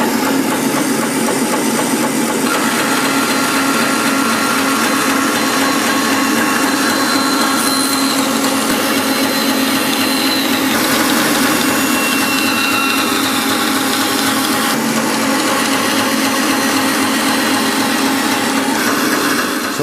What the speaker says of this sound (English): I just sawed through this piece of cherry